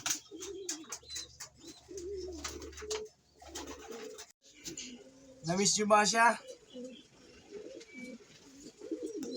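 Soft coos from domestic pigeons murmur close by while a person talks, with a brief burst of louder fluttering or calling midway.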